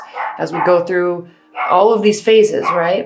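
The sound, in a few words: dog barking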